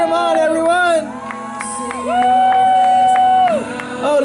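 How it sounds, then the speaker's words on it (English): A crowd at a church cardboard boat regatta cheers and whoops loudly and continuously as the racers paddle, with high sustained shouts and children's voices mixed into the babble. "Let's cheer them on, everyone."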